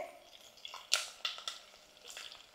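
Garlic and green chillies sizzle in hot oil for a Marathi-style tempering, with soft crackling and a few sharper pops and stirring clinks, close and fairly quiet.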